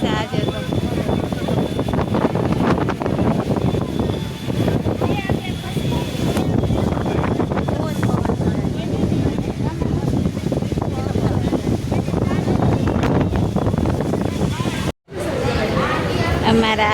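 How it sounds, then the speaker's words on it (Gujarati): Strong wind buffets the microphone in a steady, loud rumble outdoors near a hospital, with people talking and chatting over it and a brief dropout near the end. "કેટલો પવન છે આજે તો."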